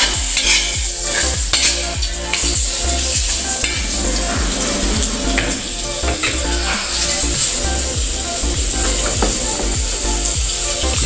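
Sautéing in a pan for a wild dove dish: a loud, continuous sizzle with a spatula scraping and stirring in a steady rhythm, close up and with no talking.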